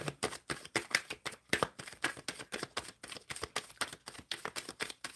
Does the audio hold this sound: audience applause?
no